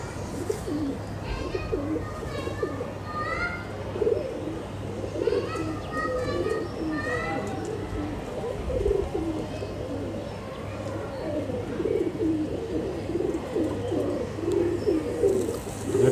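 Pigeons coo repeatedly at close range, soft throaty calls rising and falling over a low hum while people talk nearby.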